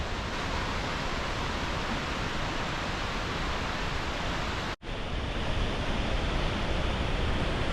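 South Falls, a 177-foot waterfall, gushing down beside a trail bridge: a dense, unbroken roar of rushing water, close and loud throughout, with one momentary dropout.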